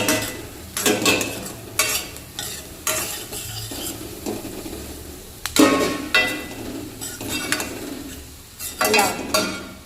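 Spiced sev tameta curry with green chili, turmeric and green garlic is stirred in a pan, a spoon scraping and clattering against the metal in repeated bursts over a steady low sizzle, close and fairly loud.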